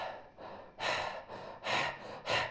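A voice imitates eerie breathing, a series of about six breathy inhales and exhales in an uneven rhythm, close and soft.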